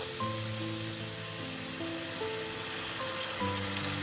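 Wine splashes into a hot frying pan holding browned Iberian pork pluma, setting off a steady, even sizzle with faint crackles that carries on close and alone, with no talking.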